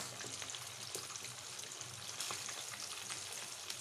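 Stuffed sardines fry in hot oil, giving a dense steady sizzle with scattered crackles and pops, close up and continuous without any voices.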